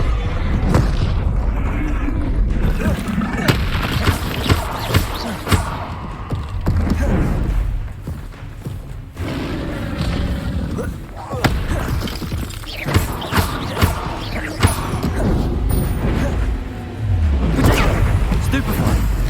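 Spell blasts from Incendio and Confringo in the Hogwarts Legacy video game, a dense barrage of booming impacts and fiery bursts repeating throughout, loud and continuous with game music and effects layered underneath.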